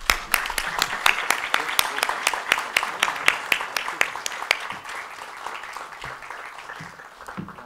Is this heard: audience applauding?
yes